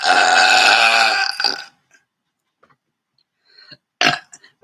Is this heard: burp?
yes